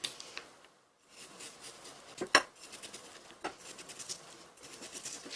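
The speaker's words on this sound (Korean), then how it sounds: "바로 고기 썰어줄 거예요" A knife cuts meat on a cutting board while preparing Chinese buchu japchae, with quiet scraping strokes and a few sharper clicks and taps against the board. The sounds come close and irregular after a brief pause.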